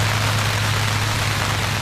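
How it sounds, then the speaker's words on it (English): Steady rain pours down during an outdoor cricket match, a dense, even hiss of drops with a low hum running beneath it, continuous and fairly loud with no voices. "the rain has decided to come"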